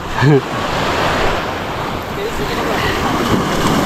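Waves slap and wash around a small outrigger boat at sea, with steady wind noise over the microphone and a short voice near the start.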